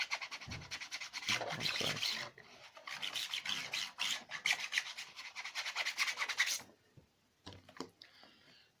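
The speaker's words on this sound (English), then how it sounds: "I'm just using a credit card again and scraping it so it sticks." A credit card scrapes and rubs vinyl wrap film down onto a freshly heated surface, giving repeated rasping strokes that are loud and close, then a short pause and a few fainter scrapes at the end.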